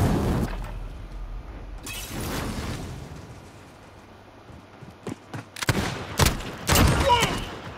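Gunfire and explosions in the video game Call of Duty: Modern Warfare, scattered sharp bursts and blasts at varying loudness, heaviest toward the end, with some game voice sounds mixed in.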